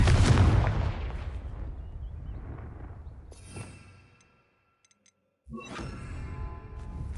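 A Confringo blasting spell in Hogwarts Legacy, fought near Gobbledook, erupts in a loud booming explosion that rumbles and fades over several seconds, then a brief near-silence before a second crackling blast with debris.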